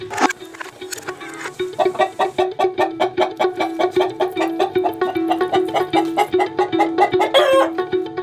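Chickens at a mobile coop converted from an old bale wagon cluck in a steady, rapid rhythm of repeated notes, loud and close, with one brief louder call near the start and another near the end.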